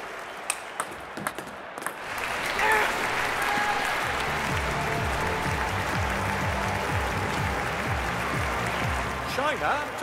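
Crowd applause at a table tennis match in the London 2012 video game, a steady wash of clapping filling the arena throughout, with a commentator talking over it.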